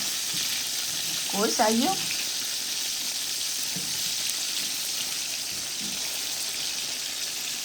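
Rohu fish fries in oil in a karahi, giving a steady hiss and sizzle the whole way through, with brief speech near the start.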